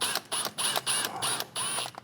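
Clamp bolts on a 2021 Toyota Supra MKV charge pipe are snugged up with a ratchet, producing a quick series of close, metallic ratcheting clicks in short bursts with small gaps.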